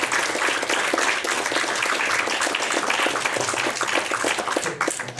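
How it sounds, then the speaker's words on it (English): Conference audience applauding after a talk on IDEs and compilers, a full, continuous burst of clapping from many hands that carries on for several seconds before tapering at the end. "So, one more round for applause for that"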